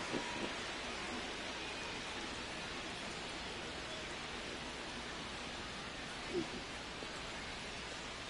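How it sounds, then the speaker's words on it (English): Steady hiss of rain falling over a ballpark during a rain delay in MLB The Show 26, an even broadband wash with no clear thunder and a faint voice buried in it. "We are officially in a rain delay as they'll put the tarp on the infield"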